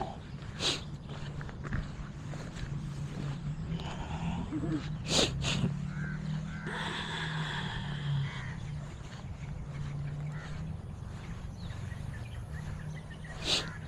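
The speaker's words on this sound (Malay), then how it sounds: "Gagak." A crow caws a few times in short harsh calls against an outdoor background, with soft footsteps and faint rustling nearby.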